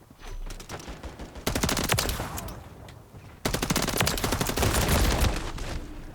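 Bursts of MCW rifle gunfire in Modern Warfare 3, rapid automatic shots in two sustained volleys separated by a brief lull, loud and close over game ambience.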